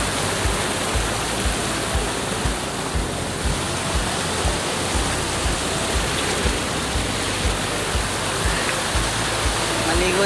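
A small waterfall at a swimming spot in Tanay rushes in a dense, constant roar of falling water, loud and unbroken throughout.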